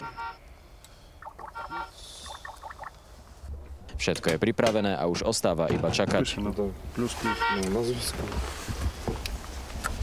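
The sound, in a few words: military tablet system alert tones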